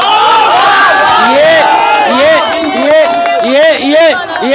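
A large crowd at a Waqf protest rally at Gandhi Maidan in Patna chants and shouts in unison, rising and falling in steady rhythmic waves, loud and continuous.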